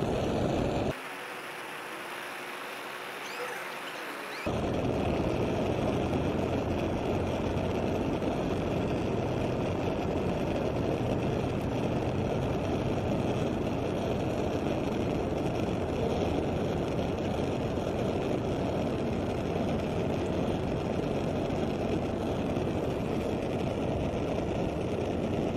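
A steady electric fan blows fumes aside in a chemistry setup, running as a constant broadband whoosh with a low hum, briefly quieter early on before settling into an even, unbroken drone.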